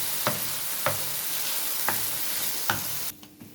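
Egyptian-style potatoes with garlic and pepper being stirred in a pan, a low frying hiss with four evenly spaced spatula scrapes, then the sizzle drops away near the end. No voices.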